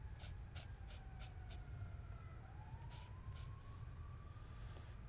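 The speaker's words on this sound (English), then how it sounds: "An ambulance or a fire truck out there." An ambulance or fire truck siren wails faintly in the distance outside, its rising and falling tone thin and low beneath a steady rumbling background, with a few soft taps nearby.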